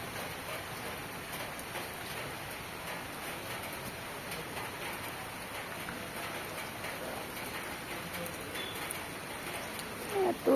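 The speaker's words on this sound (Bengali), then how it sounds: "এত টিপ টিপ করে বৃষ্টি পড়া শুরু হচ্ছে" Light rain drizzles down outdoors beside a roadside Shiva temple, a soft, steady patter of drops that holds evenly throughout with no voices.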